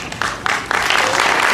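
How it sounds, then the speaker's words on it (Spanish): Audience at a school festival for a special-needs school breaks into applause, a swelling wash of clapping that builds in waves and grows fuller toward the end, fairly close, with faint voices mixed in. "Un aplauso grande"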